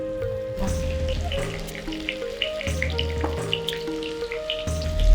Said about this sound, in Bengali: আলুগুলো ভাজতে দেবো।